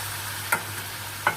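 Dal tempering sizzles softly in a hot wok, a faint steady frying hiss over a low hum, with two brief scraping clicks as it is stirred.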